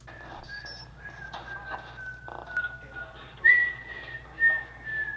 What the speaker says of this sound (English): So that's Melvin whistling right there.